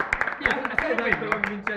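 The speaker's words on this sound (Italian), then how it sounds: "Un applauso!" A small group clapping at a gift-giving gathering, sharp rhythmic claps close by beneath a voice talking over them.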